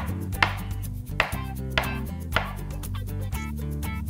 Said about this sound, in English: I'm going to very quickly cut up my avocado